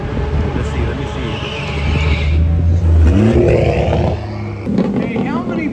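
A BMW and a Porsche at a drag race during a large BMW event in Southern California: loud engine drone that swells into a rising rev, then drops and picks up again, with crowd voices over it.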